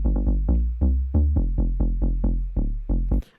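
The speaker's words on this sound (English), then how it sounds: "you could make your bass stereo and keep your sub mono to sound like this." A tech house synth bass line plays in stereo over a mono sub bass, repeating short punchy notes in a steady groove and ending with a brief airy swish.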